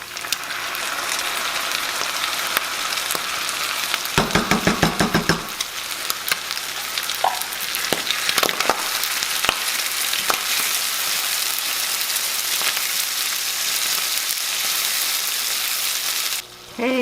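Browned onions sizzle steadily in a skillet as canned soup is stirred in, with clattering spoon scrapes and knocks against the pan over a constant close frying hiss.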